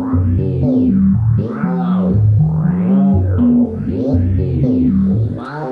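Modular synth patch with an Echophon echo module used as the oscillator, fed the same CV input as a Rene sequencer, giving a steady stepped melodic sequence with swooping, warbling echo sweeps throughout, loud and continuous with no talk.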